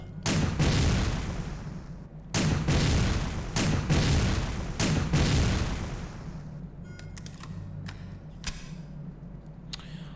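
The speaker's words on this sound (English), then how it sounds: "Alright, explosion." Grenade explosions from a revolver-style grenade launcher in the video game Dead Aim, four loud booming blasts in quick succession over the first six seconds, then a quieter rumbling tail with faint clicks.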